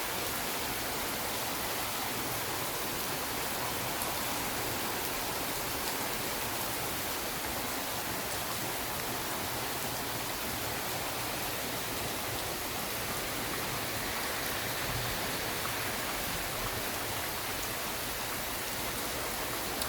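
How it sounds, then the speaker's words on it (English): Dense, steady roar of heavy thunderstorm rain pouring continuously in Saint-Henri, Montreal, broadband hiss with no breaks or voices. "this type of rain right now you're seeing, this is the kind that causes flooding"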